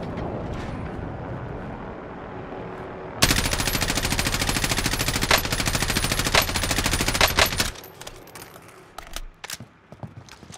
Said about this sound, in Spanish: ¿Qué estás disparando, güey?